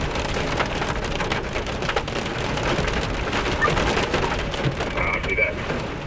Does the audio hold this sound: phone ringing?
no